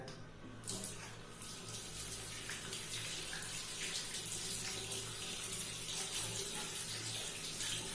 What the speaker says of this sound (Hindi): अब आपने क्या करना है, नल को खोल लेना है